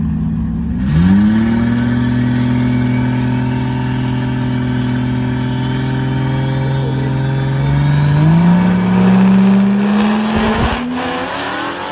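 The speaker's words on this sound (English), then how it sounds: "So we'll make some passes in the car and see what it'll do." Drag race car making a pass, its engine held at a loud, steady high-pitched roar close by, then climbing in pitch as it revs harder before cutting off near the end; no talk.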